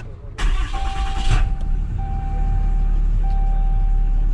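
A diesel pickup work truck's engine cranks and catches with a short loud burst, then settles into a steady low idle, with faint electronic chimes sounding under it.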